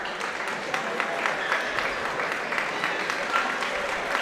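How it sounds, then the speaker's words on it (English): Crookston fans give their basketball players and starting five a sustained round of applause during a Section 8AA first-round game against Perham, heard as steady, even crowd clapping in a gym, moderately distant and unbroken. "allow the Crookston players and their starting five to get a nice round of applause from their fans"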